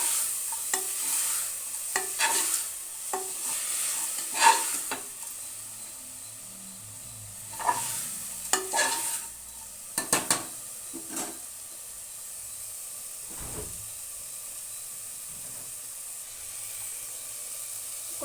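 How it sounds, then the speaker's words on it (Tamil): Chicken biryani being stirred with salt in a pot, with repeated scraping and stirring strokes over a steady sizzling hiss, close up and alone. "உப்பு போட்டு ஒரு கிளறிக்கலாம்"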